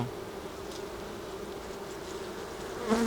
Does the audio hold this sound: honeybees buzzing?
yes